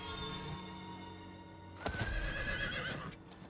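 A horse in Diablo IV gives a loud whinny after a held tone, followed by clopping hooves and a shuffling thump, all close and without talk.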